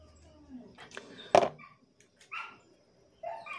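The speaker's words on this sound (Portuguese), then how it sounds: "Os cachorros estão latindo aí" Dogs bark a few times at a distance, one sharp bark standing out among faint yips, in an otherwise quiet outdoor workspace.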